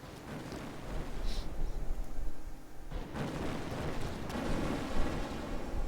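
Deep booming ship cannon fire in the naval game Victory at Sea, several muffled blasts spread over a few seconds against a rumbling, windy background at moderate volume.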